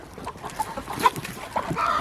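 Young chickens in a netted backyard pen cluck softly and intermittently as leafy greens are scattered for them, with short close calls and light rustling.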